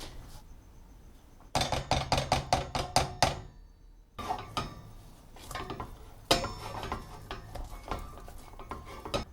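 A utensil scrapes and knocks rhythmically against a bowl while brownie batter is mixed with melted chocolate for butterscotch swirl brownies. Bursts of brisk stirring strokes are broken by short pauses.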